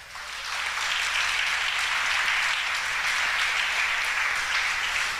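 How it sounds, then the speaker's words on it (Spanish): A church congregation breaks into applause, a dense sustained clapping that swells quickly and holds steady for several seconds, heard from within the room. "Date un aplauso."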